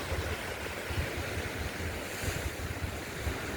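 Ocean surf at a beach, a steady, fairly quiet wash of breaking waves with a low rumble and some wind buffeting, no voices.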